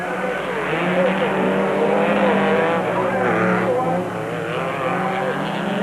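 Racing pickup trucks, including a Castrol Toyota Hilux V6, roar around a circuit with a loud, sustained engine howl and tire noise, under a commentator's voice.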